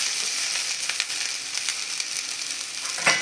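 Boiled vermicelli being stirred into fried onions in a pan, with a continuous soft sizzle and light scraping and crackling from the stirring.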